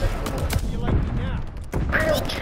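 Bursts of gunfire from the Call of Duty: Vanguard video game, sharp cracks and thuds scattered across a couple of seconds amid game noise, with a voice speaking over them.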